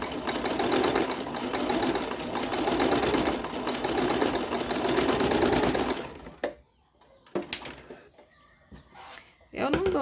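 A sewing machine stitching pink fabric for a rug runs in a fast, steady mechanical rattle for about six seconds, then stops abruptly, leaving a quieter stretch with someone talking and brief handling sounds.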